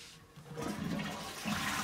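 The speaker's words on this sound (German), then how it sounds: "Jetzt noch den Spültest machen, um zu sehen, ob auch beide Druckknöpfe funktionieren." A Geberit concealed-cistern toilet is flushed as a test after repair and descaling, a rushing gush of water that builds and keeps running, fairly quiet and close with no voices.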